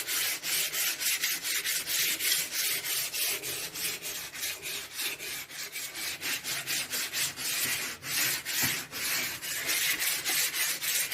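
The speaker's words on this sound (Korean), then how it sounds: "거칠지 않은 사포로 전체 표면을 매끈하게 다듬어 주겠습니다" Fine sandpaper works across the surface of a wooden furniture piece, making a rapid, even rhythm of close, loud rasping back-and-forth strokes with no talk.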